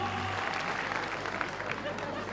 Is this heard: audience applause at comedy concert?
yes